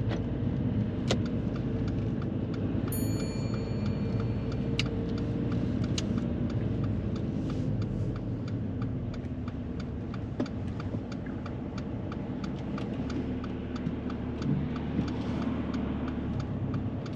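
A car drives along during a driving lesson, a steady low engine and road rumble inside the cabin with occasional faint ticks and clicks, and no one speaking.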